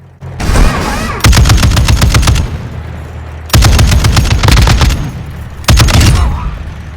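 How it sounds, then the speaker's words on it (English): Heavy machine gun fire in Call of Duty DMZ: three loud, close bursts of rapid automatic shots, each lasting about a second or two, with booming echoing tails between them and no voices. "And they're also heavy machine gun."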